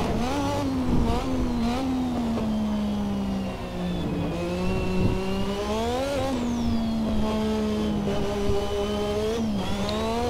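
A Lotus 98T turbocharged Formula 1 car engine revs loud and close, a sustained harsh howl whose pitch climbs and dips repeatedly, then bounces against the rev limiter.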